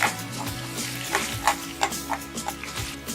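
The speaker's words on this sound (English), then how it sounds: "Now add green chilies as per your taste. Roast it for 2 minutes." Green chilies roasting in a pan with garlic cloves while preparing curd upma, giving a steady close sizzle with short clicking bursts of stirring spaced through the moment.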